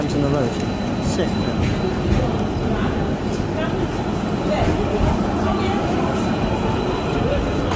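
Loud rumbling of a tram rolling along a road in Croydon, heard from a train, with steady rail noise and a voice talking over it close by.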